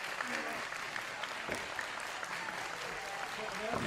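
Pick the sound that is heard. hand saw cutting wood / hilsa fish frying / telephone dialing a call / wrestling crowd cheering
wrestling crowd cheering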